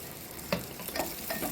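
Spices sizzling as they temper in hot oil in a clay pot while cooking a prawn thokku, with soft frying crackle and a few sharper stirring bursts, close and fairly quiet with no talk.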